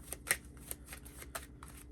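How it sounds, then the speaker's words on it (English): A deck of playing cards is shuffled for a card game, with a quick run of soft riffling clicks and flicks, close and fairly quiet. "So we shuffle up so we can get a playable creature"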